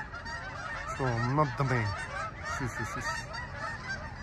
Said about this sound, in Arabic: الطيور كي هاجروا ديما مع المغرب كيدوزوا اسراب ديال الطيور بحال هكا